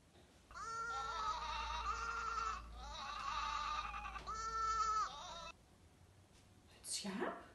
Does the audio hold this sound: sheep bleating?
yes